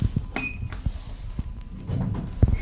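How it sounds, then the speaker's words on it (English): Lift doors in a Bristol shopping centre opening, with scattered clunks, clinks and a short chime over a steady mechanical rumble, close and moderately loud. "Doors This one's opening."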